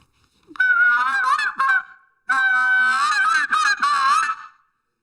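A tube goose call blown by a person imitating basic goose honks: two loud, nasal honking bursts in quick series, separated by a short pause, close and alone with no talk.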